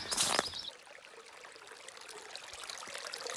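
Water poured or trickled while refilling on the Ouachita Trail, a short louder splash at the start, then a steady soft trickle continuing alone outdoors.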